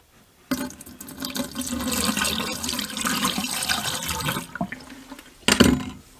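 RV antifreeze poured into the trap of a kitchen sink drain while an RV is winterized, a steady liquid gurgle and splash lasting several seconds, followed by a short sharper splash near the end.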